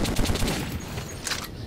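Rapid bursts of gunfire from a silenced Kalashnikov in the Metro 2033 shooter game, a dense string of close, repeated shots with a few heavier cracks near the end, over busy in-game background noise.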